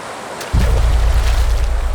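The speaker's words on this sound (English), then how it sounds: "Moving quite fast, but these rapids look manageable" Fast river rapids rush in a wilderness setting, a loud, dense, low roar of turbulent water that surges in abruptly and continues steadily up close.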